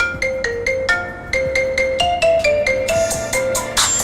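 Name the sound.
marimba ringtone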